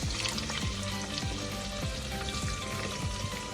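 Onions frying in a pan with cinnamon and cloves, a dense, steady sizzle close up, with soft periodic scraping sweeps of stirring.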